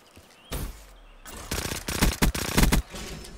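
Gunfire in Black Ops 3 sounds in loud, close bursts of automatic shots, rattling in quick clusters after a brief opening shot and pause.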